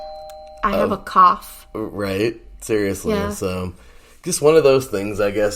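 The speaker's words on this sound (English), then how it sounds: "we got a doorbell there real quick" A doorbell chimes with a few brief tones beneath steady conversation, partly masked by the talking voices.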